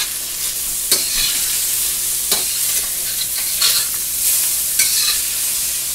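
Teriyaki chicken stir-frying in a pan: a steady, close sizzle with a spatula scraping and stirring in several sharp strokes, no voices.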